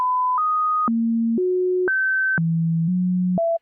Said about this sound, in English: we can hear and we can also see how the oscillator is snapping to different pitches